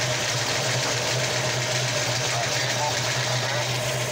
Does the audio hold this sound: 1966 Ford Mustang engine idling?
yes